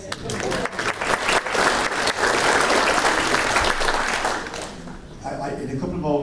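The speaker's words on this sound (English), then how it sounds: "So give yourselves a round of applause." At a lecture event, an audience bursts into dense, loud applause that holds steady for several seconds, then fades as a voice begins speaking.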